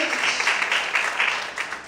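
Dense, sustained applause from a church congregation, loud and even throughout with slight surges, a close crowd of many hands clapping together with no speech.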